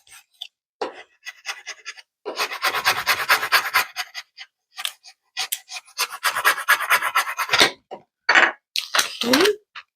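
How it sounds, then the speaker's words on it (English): A small scraper rasps repeatedly across vinyl as it is burnished onto transfer tape, with short scratchy strokes at first building into longer, continuous rubbing passes, close and fairly loud. "I'm going to take my little scraper here. And I'm going to burnish. Try to burnish this onto the transfer tape."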